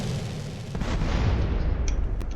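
Gunfire blows up a stolen car in GTA San Andreas. A deep booming blast rolls into a low rumble, and a couple of sharp pops follow near the end.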